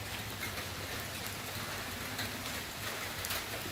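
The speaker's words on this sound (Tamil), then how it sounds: "நல்லா ஹெவியாக மழை பெய்ய போகுது." Heavy rain pours steadily around a temple in Kerala, a dense, even hiss that fills the whole stretch with no voices over it.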